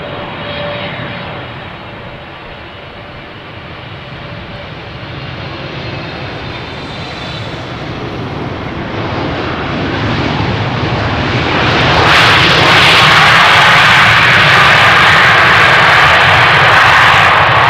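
A KLM Boeing 777-300 lands on runway 27 at Amsterdam Schiphol Airport, its jet engines roaring steadily and growing louder and broader as it nears, heard outdoors with no voices.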